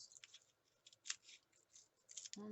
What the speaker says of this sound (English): The scissors don't work too good on that.